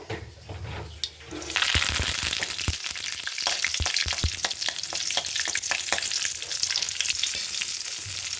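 Mustard seeds and curry leaves hit hot oil for a chutney tempering, bursting into a loud, steady sizzle with rapid crackling pops that run continuously after a quieter start.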